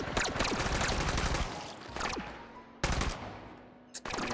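Gunfire in the VR game Hot Dogs, Horseshoes & Hand Grenades: a rapid string of loud, sharp shots at first, then after short pauses two more single reports, each ringing out and decaying.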